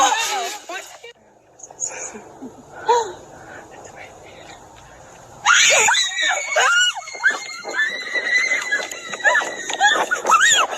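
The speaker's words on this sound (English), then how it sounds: "The group hears a terrifying scream and runs back to the car" A shrill, piercing scream rises and wavers repeatedly, loud and close, after quieter whispery voices and rustling at the start.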